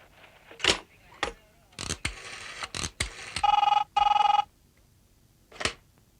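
A telephone rings during a call as two short electronic ring bursts, set among clicks and scattered people talking close by.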